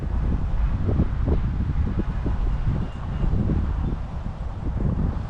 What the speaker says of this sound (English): got a pretty significant cross breeze right here, so I'm trying to play the wind also